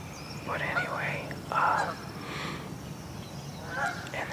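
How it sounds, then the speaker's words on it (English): Low-flying geese honk overhead near a lake in a cemetery, in a few short bursts of nasal calls spread over several seconds, moderately close and clear above a steady background hiss. "Yeah, sorry, those are geese."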